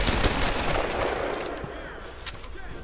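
Shotgun blasts boom in Tomb Raider, loud and close, with a few sharp reports over the first part before fading into quieter game ambience.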